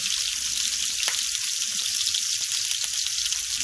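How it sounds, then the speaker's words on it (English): Iguana meat sears in a hot pan, giving a loud, steady, even sizzle with a few faint pops and no talking. "Alright, so we're going to sear up each side"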